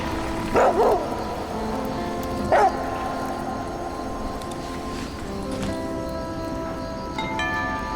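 A dog in the survival video game The Flame in the Flood gives two short barks, early and a moment later, over steady ambient game music.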